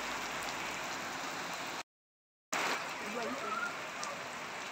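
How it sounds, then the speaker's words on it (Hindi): Heavy rain falling at a gate near Tawang in Arunachal Pradesh, a steady, fairly faint hiss of downpour broken by a brief silent gap, with voices talking over it. "हम आ गए नीचे वाले गेट पे और बारिश हो गई है तेज"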